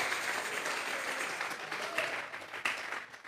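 A church congregation claps together in a steady, dense burst of applause that fills the room, with a few sharper claps standing out toward the end.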